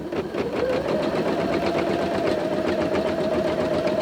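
A Britannia sewing machine with an embroidery unit running steadily, a fast, even mechanical whir with a rapid stitching rhythm, close and continuous.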